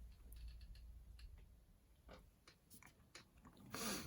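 A chair creaks faintly as someone swings on it, giving scattered soft creaks and ticks over a quiet, low background hum.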